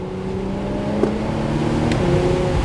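Steady engine drone and road rumble from a 2020 Porsche Macan Turbo SUV on the move, a continuous mid-level hum with a couple of faint brief clicks, no talking.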